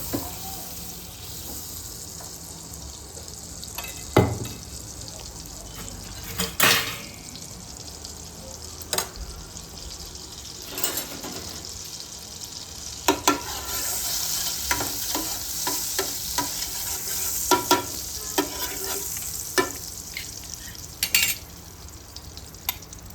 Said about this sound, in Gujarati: હવે આપણે એનો વઘાર મૂકશું। વઘારવા માટે બટર નાખશું,